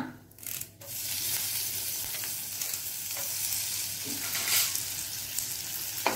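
Urad dal and curry leaves sizzle in a spoonful of hot oil, a steady close crackling fry that runs loud and unbroken with occasional stirring scrapes.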